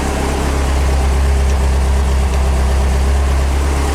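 An engine idles at just over 1,000 rpm, a steady, loud low-pitched rumble holding constant for the whole stretch with no revving.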